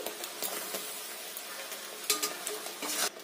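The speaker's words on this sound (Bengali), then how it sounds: "এই মশলাটা খুব ভালো করে কষিয়ে নিতে হবে।" Blended spice paste with peas is sautéed in a pan, a soft continuous sizzle with intermittent stirring scrapes and clinks against the pan, heard alone.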